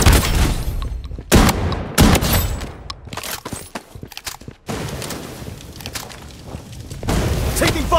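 Bursts of automatic gunfire in the shooter game Blood Strike during a ranked match, loud close volleys separated by brief gaps, with sharp single shots and a game voice line calling out in between.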